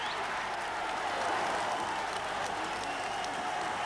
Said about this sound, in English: The crowd celebrate 2-0